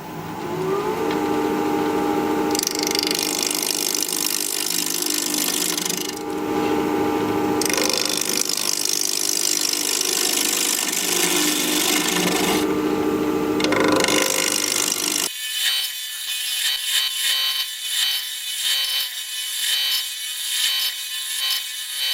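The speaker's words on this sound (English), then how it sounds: "We're going to be turning at 1500 RPM, mask and face shield on, 1/2 inch standard grind bowl gouge" A wood lathe spins at 1500 RPM while a half-inch standard grind bowl gouge cuts a scrap-wood bowl, giving a loud, steady scraping rasp with brief pauses between passes before it shifts to a thinner, higher tone.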